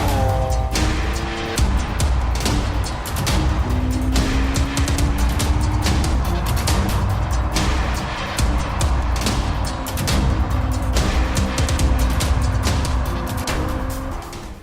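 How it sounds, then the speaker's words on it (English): A Lamborghini Aventador SV supercar at Catalunya Circuit in Spain, its engine roaring loudly and continuously with rising and falling pitch through gear changes, close and steady throughout without talk. "it's the car you can see in your frame, the Lamborghini Aventador SV"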